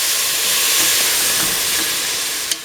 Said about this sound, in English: Pour in 100 ml of water